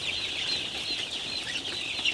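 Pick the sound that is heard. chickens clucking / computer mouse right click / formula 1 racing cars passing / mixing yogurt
chickens clucking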